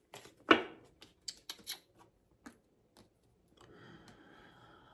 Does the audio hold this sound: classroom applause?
no